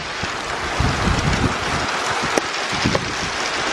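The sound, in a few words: rain falling outside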